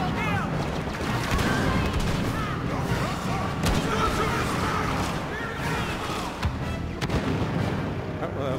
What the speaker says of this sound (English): Also fill the hallways with barrages.